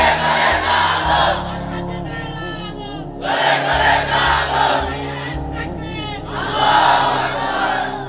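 A crowd at a religious gathering shouts takbir together in loud, repeated chanted bursts. Each call rises and falls, with short gaps between them.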